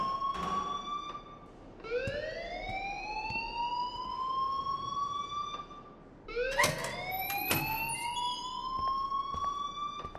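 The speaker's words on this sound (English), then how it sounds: "please turn off that alarm since that's your job" Electronic alarm sounding in the Life is Strange video game: loud rising siren-like sweeps that repeat in long upward glides over a steady noisy background, with no talking.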